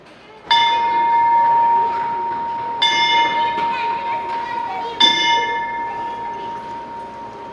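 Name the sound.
old school bell being rung at Humberstone saltpeter works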